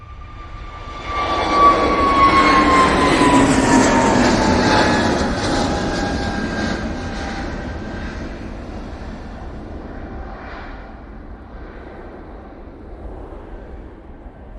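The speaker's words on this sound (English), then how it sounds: "that's the Easyjet off to Lanzarote" EasyJet airliner departing Manchester Airport for Lanzarote, a loud jet engine roar that swells within the first two seconds, holds with a whining tone, then slowly fades as the plane climbs away.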